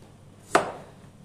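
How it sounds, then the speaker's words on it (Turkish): A single sharp knife chop through peeled carrots on a cutting board, one crisp close impact with a short decay in an otherwise quiet kitchen. "soymuş olduğumuz havuçlarımızı doğramaya başlayalım"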